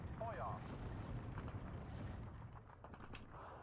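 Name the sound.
mortar fire in the video game Steel Division 2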